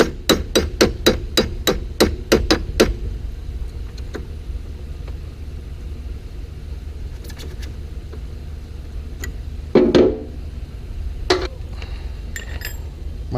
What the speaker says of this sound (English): You got to drive this pin out